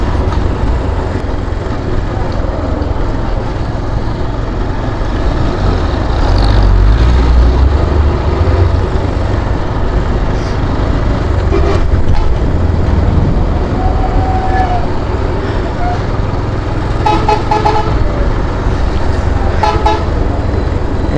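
Busy main highway traffic heard from a moving motorbike: a dense, steady roar of engines and road noise, with several horn toots in quick succession near the end and a louder passing vehicle midway.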